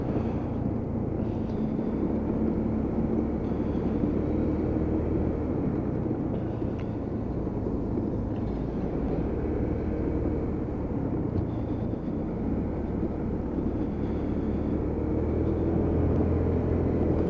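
A Lexmoto Titan scooter, overdue for a drive belt and roller change, rides steadily in traffic while lane splitting onto a dual carriageway, its continuous low engine drone and road rumble staying even and close throughout.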